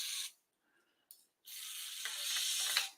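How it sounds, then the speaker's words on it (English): Spray bottle misting cleaner onto the threads of a reloading die, two or three short close hissing bursts separated by brief silences. "I'm just going to put just a little bit of spray on these bottom threads"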